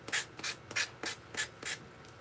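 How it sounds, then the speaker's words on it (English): A sander works over the surface of a handmade Christmas ornament in six short, regular rasping strokes. Each stroke is a quick brushing scrape, separated by brief pauses, and the sound is fairly quiet and close. No voices are heard. "So I'm just going to sand this over."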